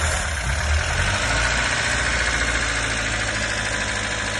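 A VAZ 2106 car engine idles steadily after being started for the first time in years, a loud, close, slightly rough mechanical drone with a faint knock running throughout, without talking.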